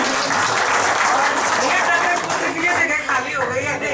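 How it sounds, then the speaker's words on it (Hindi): Steady, dense applause from an audience at a retirement and book release ceremony, loud and continuous throughout, with voices mixed in beneath the clapping. "श्री गौतम साहब के लिए बहुत बहुत तालियां"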